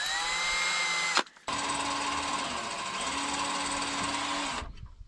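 A power drill whirs steadily, pauses briefly, then runs again at a continuous high-pitched buzz before stopping abruptly.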